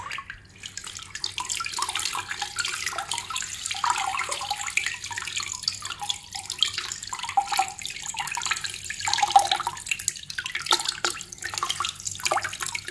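Water poured and splashing over a waterproof flashlight, a steady trickling, running flow with uneven surges, close by and without speech.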